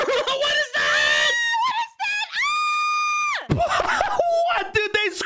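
People in a Minecraft game session scream loudly in long, sustained, overlapping bursts close to the mic, with shouting and laughter mixed in.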